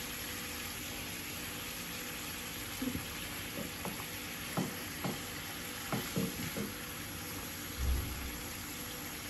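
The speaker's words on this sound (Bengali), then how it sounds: "একটু কষিয়ে নেই" Boal fish curry being sautéed in a pan, a steady close sizzle with intermittent scrapes and clinks of stirring.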